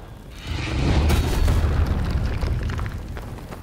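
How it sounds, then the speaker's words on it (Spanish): A deep, rumbling boom from an explosion in the game Lords of the Fallen swells up within the first second and rolls on loud for a few seconds before slowly easing off. "ya ha hecho la explosión"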